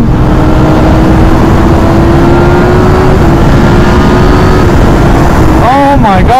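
A Ducati SP motorcycle accelerates away beside a beach while riding with a group, its engine note climbing steeply near the end under heavy, steady wind roar.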